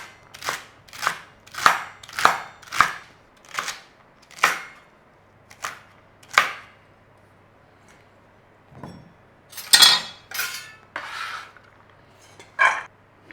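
A knife chops carrots into cubes on a cutting board, with a run of sharp, close thuds in an uneven rhythm, a pause, then a few more clustered chops.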